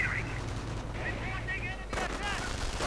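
Rifle gunfire in a World War II strategy game battle, short bursts of shots and rattling fire under a commentator's voice.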